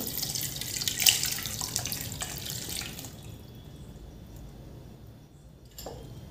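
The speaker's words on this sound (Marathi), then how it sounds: "आता याला आपण या चाळणीमध्ये काढून घ्यायचं आहे। याचं पाणी वेगळं करायचं आहे।" Boiled beetroot and carrot soup with bay leaf is poured through a kitchen sieve, its liquid splashing and draining steadily for about three seconds, then fading to a quieter trickle with a brief splash near the end.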